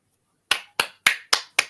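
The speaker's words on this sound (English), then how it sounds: "Give a clap for Harvey Young, everybody." Five sharp, evenly spaced claps ring out in quick succession, close and crisp, each decaying fast into near silence, during a football fan podcast.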